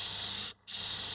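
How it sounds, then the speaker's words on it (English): A paint sprayer hisses out a fine mist of paint onto a test sheet, a steady bright spray that cuts off for a split second and then resumes at the same level. "I tighten it up so that it sprays very little"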